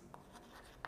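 Pen or marker writing on a board during a chemistry lesson, heard as a few faint, brief scratchy strokes spread through a quiet second with no talking.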